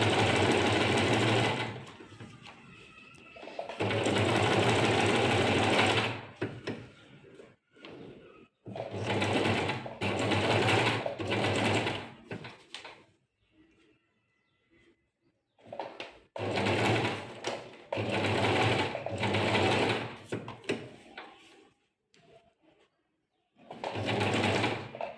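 A sewing machine stitches in several sustained runs of a few seconds each, starting and stopping with quiet gaps between them where the fabric is lifted and repositioned.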